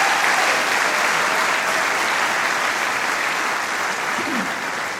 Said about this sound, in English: please acknowledge your colleagues with a round of applause